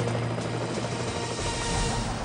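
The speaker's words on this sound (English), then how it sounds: "United States Coast Guard air rescue helicopter races into hostile territory." A US Coast Guard air rescue helicopter flies through hostile territory, its steady loud rotor and engine roar filling the scene without pause and with no voices over it.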